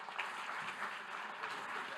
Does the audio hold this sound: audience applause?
yes